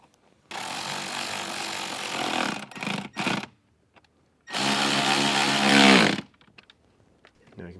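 A power driver runs screws into a trim panel inside a 2024 Jeep Wrangler JL, two sustained whirring bursts of a few seconds each with short taps between them, close and loud with no talk.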